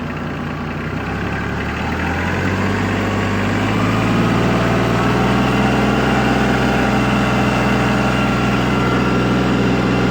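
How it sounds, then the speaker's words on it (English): Weed Badger 2550-SST tractor PTO-driven weeder running, a steady loud low engine and machinery drone that rises in pitch and intensity over the first few seconds as it spins up to operating speed, then holds a constant hum with no talk. "let go of the clutch, and we're spinning. And then I bring us up to operating speed."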